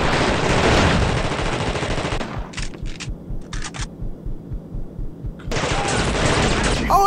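Gunfire in The Thing video game: dense, loud bursts of shooting at the start and end, with short clusters of sharp shots and a steady low thumping in between, no talking.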